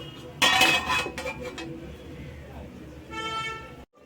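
A metal lid clatters onto a pot of Bhakua fish curry with tomato and lemon, giving one sharp bright clank followed by softer rattles and a final ringing clink.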